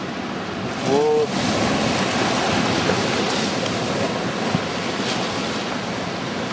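Continuous roar of ocean surf on the coast of Bora Bora with heavy wind noise buffeting the microphone, a brief faint tone near the start.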